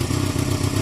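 A Honda CB250 motorcycle engine, being rebuilt as a cafe racer and bobber, runs steadily at idle close by, a loud, even lumpy rumble with no talk over it.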